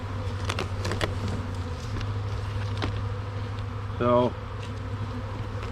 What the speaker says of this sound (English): So I'll make sure these bees are shook down. Anything that can fly out of there can go ahead and go.